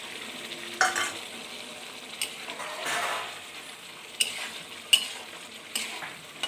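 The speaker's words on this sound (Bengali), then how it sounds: "জল দিয়ে এটা ভালো করে সিদ্ধ করতে হবে।" Food simmering in a pan with water added, a low steady bubbling bed broken by a few scattered clinks and stirring scrapes, close by with no talk.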